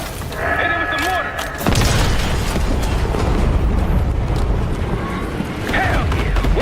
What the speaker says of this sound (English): Hit it with the mortar.